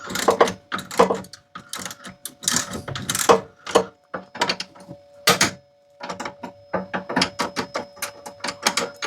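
A hand ratchet clicks in quick bursts as bolts are tightened on a swivel seat base in a Sprinter campervan, with sharp close rapid clicking separated by short pauses.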